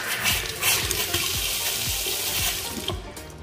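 Water runs steadily from a tap into a kitchen sink in a house, a continuous close splashing hiss with small rhythmic knocks underneath.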